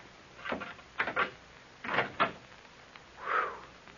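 An old door in a dusty, long-shut room creaks and knocks open in a radio drama, with several short wooden clunks and a drawn-out creak, close and moderately loud, no voices over it.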